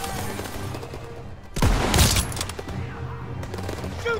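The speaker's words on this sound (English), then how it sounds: "Shoot the driver." Gunfire from the Call of Duty WWII PC game, a sudden loud burst of rapid shots and booms in the middle, set against quieter game ambience before and after.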